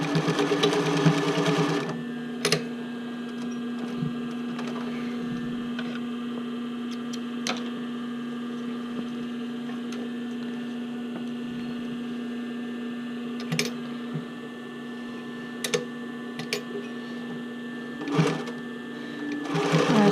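A sewing machine stitches elastic onto a bra band with a steady motor whir and mechanical hum. The sound runs continuously and close, with occasional clicks and a brief speed-up near the start and end.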